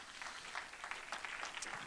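A church congregation at a Sunday service applauding for the Lord, faint distant clapping blended into a dense wash that holds steady throughout.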